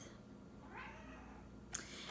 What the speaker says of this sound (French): désolée pour le miaulement de mon chat